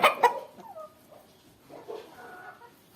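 Chickens and a rooster in a coop give a few close clucks and short squawks, with sparse calls spread across a quiet background.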